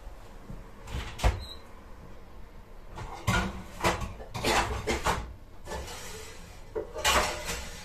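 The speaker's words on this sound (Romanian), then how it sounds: "Îmi pregătesc tigaia." A frying pan for crepes is handled in a home kitchen, with a series of scattered clunks, knocks and scrapes of cookware and cupboard doors at moderate loudness.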